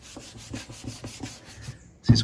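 A hand rubs back and forth over an unpolished, sanded surface during a polishing job, giving soft, steady brushing strokes close up, ending in a louder burst of handling noise.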